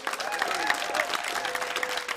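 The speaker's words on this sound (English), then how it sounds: "So give yourself a big round of applause for being here" A live Celtic music concert audience applauds the performers, a steady patter of many hands clapping fairly close, with some voices and tonal sounds running underneath.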